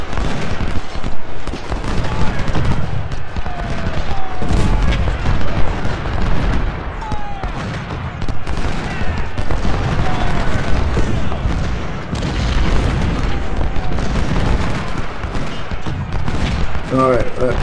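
Civil War infantry volleys in the strategy game Ultimate General, continuous crackling musket fire and booming cannon shots rolling loud and dense throughout, with a voice occasionally talking over the battle.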